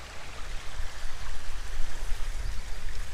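A small creek in a park flows steadily near an old stone arch bridge, a continuous close rushing and babbling of water with no voices.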